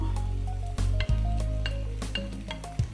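Chopped onion and bacon lardons sizzling loudly in a pan beside browned beef for bourguignon, a close steady fry with a few spatula scrapes and stirs, no talk.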